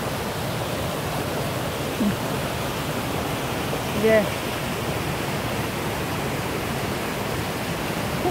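A narrow mountain-valley stream, swollen by an overnight downpour into a waterfall, roars as a dense, steady rush of water, with a brief spoken word and a couple of faint clicks over the torrent.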